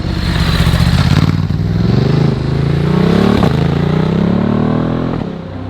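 Ducati DesertX adventure motorcycle with an aftermarket exhaust holds a steady, deep, loud engine rumble close by, rising gently in pitch with a faint rev and a few clatters before easing off at the end.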